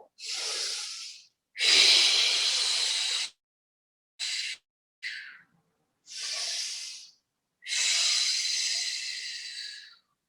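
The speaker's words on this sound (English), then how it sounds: "a big deep breath in to stretch out your ribs as much as you can" Slow, deep Pilates breaths in an osteoporosis class: six or so long, breathy inhales and exhales, close and airy, separated by short silences.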